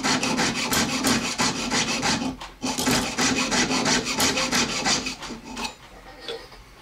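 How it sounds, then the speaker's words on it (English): A hand saw rasps steadily through silver stock while a turquoise ring is made, a close, even run of back-and-forth strokes with one brief pause before slowing and stopping near the end. "Let the weight of the saw on the blade cut through the silver"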